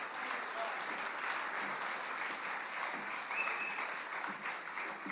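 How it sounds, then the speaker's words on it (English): An audience applauds to welcome Chief Nkosi Zwelile Mandela at an international Palestine solidarity conference: a steady, even crowd clapping that holds through the whole stretch at moderate distance. "can we please welcome him with a warm welcome of applause?"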